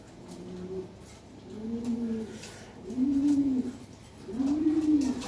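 Lahore pigeon cooing close by in four soft, rounded coos at an even, unhurried rhythm, each a little louder than the last, with quiet background.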